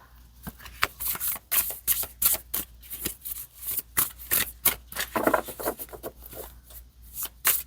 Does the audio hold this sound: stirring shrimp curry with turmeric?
no